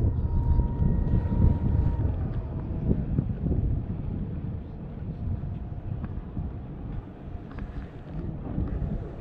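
Steady wind rumbles and buffets against the microphone outdoors at the harbour of La Trinité-sur-Mer, a continuous low roar with faint engine-like hum underneath.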